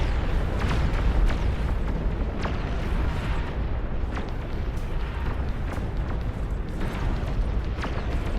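An epic fusion reactor blows up in the RTS game Beyond All Reason, a dense, sustained rumbling roar with scattered crackling bursts, loud and continuous throughout with no voices.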